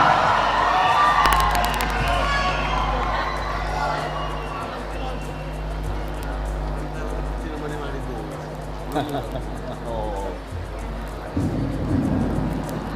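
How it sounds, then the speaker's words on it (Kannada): A large audience cheers and roars at a World Bunts Convention 2023 stage event, welcoming the Kantara actor; the steady, dense crowd noise runs throughout with a low hum, rising again near the end. "ಒಂದು ಚಪ್ಪಾಳೆಯ ಪ್ರೋತ್ಸಾಹ ಅವರಿಗೆ ಇರಲಿ"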